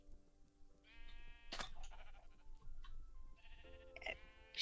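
Sheep in a Minecraft-style video game bleat several times, short wavering cries spaced a second or two apart, fairly clear over a quiet background with a few soft clicks.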